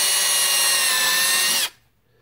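A power drill boring a starter hole for a static grass applicator build, running at a steady high whine for about a second and a half and then stopping abruptly into near silence.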